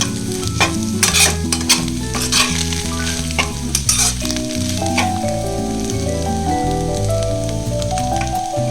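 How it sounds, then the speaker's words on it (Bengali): Egg and other ingredients sizzle loudly as they are stir-fried together in a pan for fried rice, with a steady crackle and intermittent scraping and clinking of the utensil throughout; no one speaks. "দেখুন ডিমটাও ভাজা ভাজা হয়ে গেছে এরপর এগুলোকে আমি একসাথে মিশিয়ে নেব"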